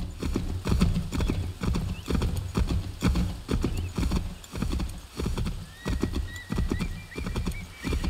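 Horse hooves clip-clop steadily in Assassin's Creed 3 Remastered while riding through the frontier, with an occasional whinny, a constant rhythmic trot up close and no talking.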